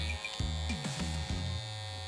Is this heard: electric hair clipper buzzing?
yes